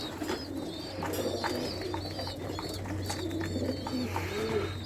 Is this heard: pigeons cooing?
yes